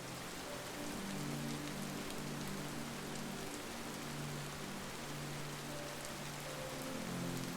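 Steady rain patters on a surface as a dense, even wash throughout, with a faint low drone beneath it; no voices.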